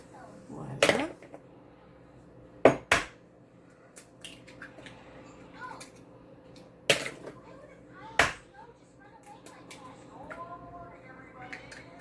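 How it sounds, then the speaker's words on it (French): Eggs are cracked one after another into a bowl in a home kitchen, producing several sharp, close taps and cracks spaced irregularly, with faint background voices and a low steady hum between them. "Donc, j'ai mes œufs ici. Je vais les casser pour les faire."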